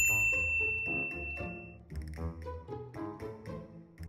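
A bright bell ding rings out at the start and sustains, then bouncy, playful musical notes follow, like a short notification chime sound effect, clear and close with no voices.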